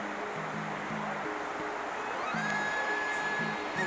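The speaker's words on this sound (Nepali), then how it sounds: "चिसाङ खोलामा अहिले बाढी आइरहेको रहेछ" The Chisang river in flood near Letang bazaar rushes with a steady, dense roar that stays constant throughout, with a faint low tonal hum underneath.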